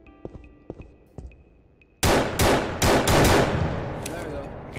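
Loud gunfire from a Unity FPS game with a player, landmine and turret, breaking out suddenly after quiet ticking as a quick series of sharp shots that blur into a dense, ringing burst.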